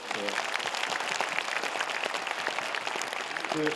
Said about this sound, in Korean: 우리 재단 직원들께도 박수 좀 부탁드릴게요.